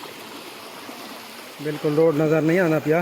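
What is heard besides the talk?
flood water flowing over a road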